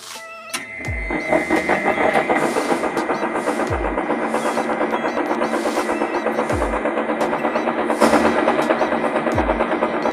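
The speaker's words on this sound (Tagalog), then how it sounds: "Okay, meron pa rin ingay. That means, parehong defective ang bearing ng main motor at ng main spindle." Vertical milling machine running with defective bearings in both the main motor and the main spindle, just restarted after the V-belt was refitted: a steady, dense mechanical whir with rattling noise and periodic low thumps, continuous and close.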